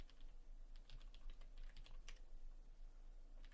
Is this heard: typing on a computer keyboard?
yes